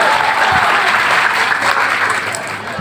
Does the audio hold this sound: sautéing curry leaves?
no